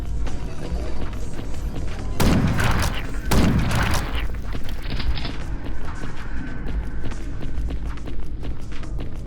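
Gunfire from the game Chasm: The Rift. Two loud booming shots come about a second apart over a busy background of movement and ambient noise, and no one speaks.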